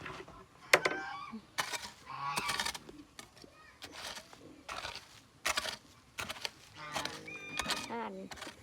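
Geese honking repeatedly in a lively, overlapping flock, loud and close, with a few short calls breaking through the chatter.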